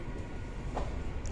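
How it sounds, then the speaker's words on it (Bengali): A train arriving at Lalgola station, a steady low rumble of rolling stock that carries on evenly throughout, with a brief higher squeal near the end. "এখন লালগোলায় ট্রেন ঢুকছে।"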